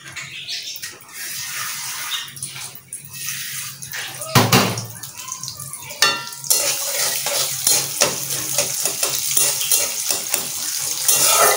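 Onions dropped into hot oil with bay leaf and garam masala for biryani, starting with scattered stirring clinks, then bursting into a loud, sustained sizzle with utensil scrapes against the pot.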